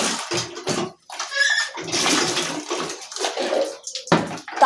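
Water drawn out and splashing in a household setting near where potatoes are being peeled, a broad running and sloshing rush with brief gaps, fairly close and loud.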